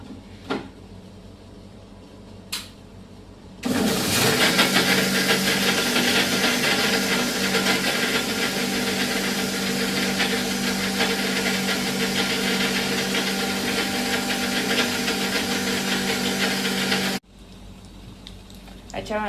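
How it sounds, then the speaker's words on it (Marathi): A kitchen mixer grinder roars steadily for about thirteen seconds, grinding coconut, green chillies, coriander and salt into chutney, starting abruptly and cutting off cleanly, with a few faint knocks before it starts. "आता हे आपण मिक्सर करून घेऊ"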